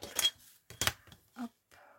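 Scissors snipping paper for a Halloween coffin craft, a few short close crisp cuts in quick bursts separated by brief silences, no talk.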